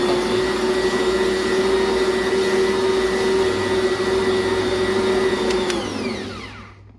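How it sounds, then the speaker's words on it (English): A stand mixer kneads breadstick dough in a bowl with a loud, steady motor whine and constant rumble, then winds down and stops at the end, with no talking. "then we'll do the kneading by machine"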